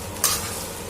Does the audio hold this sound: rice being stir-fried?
yes